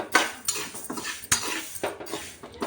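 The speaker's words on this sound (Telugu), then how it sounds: "ఈ మెంతుల్ని వేయించుకుందాం దూరగా మెంతులు వేయించుకున్న తర్వాత ఆవాలను కూడా వేయించుకుందాం" Fenugreek seeds dry-roast in a pan for mango pickle, with a spoon scraping and clinking against the metal in quick irregular strokes, close and moderately loud.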